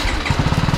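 A brief, close exhaust burble from a 2020 TVS Apache RR 310 BS6 motorcycle with its stock exhaust, a low, evenly pulsing engine rumble lasting under a second.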